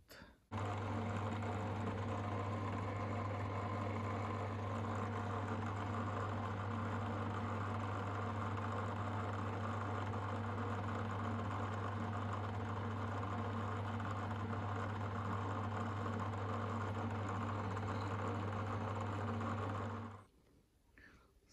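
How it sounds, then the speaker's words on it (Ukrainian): An electric drill bores 4 mm holes at 750 rpm while making adapters for flushing a BMP cooling system, its motor giving a steady, unbroken whine for about twenty seconds before cutting off. "переверну і ще з цього боку так само посверлю"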